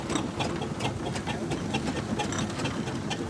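A Fowler steam traction engine rolls past in a steam rally parade at Corbridge, giving a steady, continuous mechanical chuffing and clatter with regular rhythmic beats, loud and close throughout.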